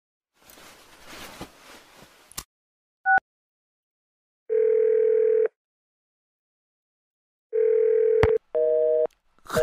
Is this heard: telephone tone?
yes